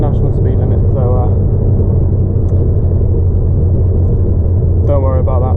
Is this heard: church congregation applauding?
no